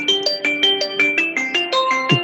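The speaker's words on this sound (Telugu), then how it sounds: "ఇప్పుడే ఫోన్ చేయాలా కనిక?" A mobile phone rings for an incoming call with a bright, melodic ringtone of quick repeating notes that step up and down. It plays loud and close, with no voices.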